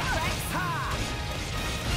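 A heavy smash-like impact from the Anchor Shot attack in Xenoblade Chronicles 2 lands amid dense game battle noise, with a crashing hit near the start followed by sustained clatter.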